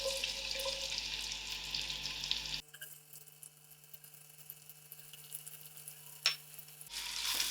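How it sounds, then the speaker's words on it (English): Onions fry in oil in a pot for a vegetarian soya chunk biryani, a loud broad sizzle at first, then a sudden cut to a much quieter, fainter hiss, and the loud sizzle returns at the end. "I'll allow these onions to fry."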